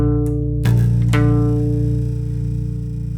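Bass guitar played with a pick plays a verse riff. Sustained low notes ring loud and close, with a couple of sharp picked attacks partway through and no talking.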